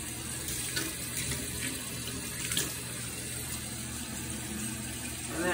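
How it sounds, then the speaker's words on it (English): A bathroom tap runs steadily while a toothbrush is rinsed under it, a continuous close hiss of water splashing into a sink, with no talking. "We're gonna rinse the toothbrush off."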